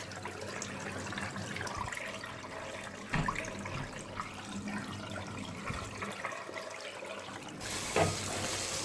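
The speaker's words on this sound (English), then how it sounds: "Just rinse it from that one side, and you can see the colour of the water that's coming through" Cold water from a hose or tap runs steadily over a dirty K&N cotton air filter being rinsed, a soft continuous splashing hiss that grows brighter near the end.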